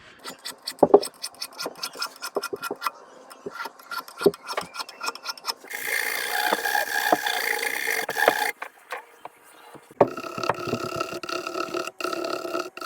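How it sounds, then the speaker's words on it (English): Sandpaper of 600 and 1000 grit polishes guitar frets on a Florentine cutaway build, giving bursts of close, steady rubbing and rasping strokes with short pauses between passes. "I've got this 600 and this 1000. So I'm taping off around each fret, and I'm going to try to polish a little bit with these"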